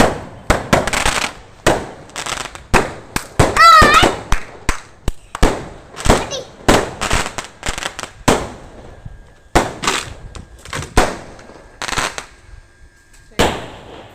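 Firecrackers burst outdoors during an Eid celebration in Oman: loud, sharp cracks in rapid, irregular strings, some close together like a chain, with short pauses between volleys.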